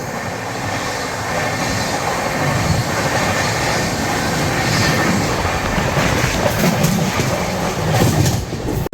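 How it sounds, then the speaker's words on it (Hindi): A Rajdhani Express overtakes the Chandigarh Madurai Express 20494, heard from on board as a loud, steady rumble of rolling stock with rhythmic wheel clatter throughout and no voices. "overtaking 20494 Chandigarh Madurai express"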